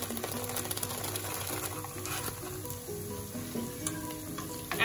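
Cumin powder and garam masala fry lightly in a pan for coconut rice, a soft steady sizzle sitting under tuneful background music.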